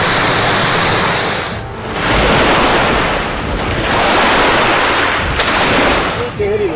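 Floodwater after two days of heavy rain rushes over a road in Sagar district, Madhya Pradesh, a loud, continuous roaring wash with steady surging swells and wind buffeting, no clear speech.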